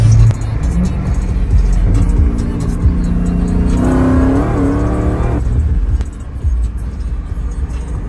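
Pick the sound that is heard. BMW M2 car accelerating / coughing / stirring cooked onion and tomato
BMW M2 car accelerating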